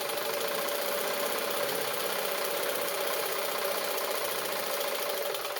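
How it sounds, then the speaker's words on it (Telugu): Electric sewing machine stitching shaped strips for a size 32 blouse, running in a steady continuous whir with a faint mechanical knock throughout, close and loud, with no talking. "చూడండి షేప్ పట్టీలు కుడుతున్నాను."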